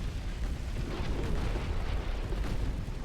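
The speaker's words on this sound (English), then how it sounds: "8-inch guns are happening to you" Eight-inch naval guns fire in Ultimate Admiral Dreadnoughts, a deep rumbling boom that rolls on without pause for a few seconds, loud and low-pitched with no voices over it.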